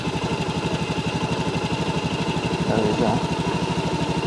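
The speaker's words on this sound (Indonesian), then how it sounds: "ini RPM-nya kurang tinggi kan? Saya naikkan." Fuel-injected motorcycle engine idling in a repair shop with a stuttering, hesitating running fault. It gives a close, steady pulsing chug throughout, with a brief rise in revs around the middle before it settles back.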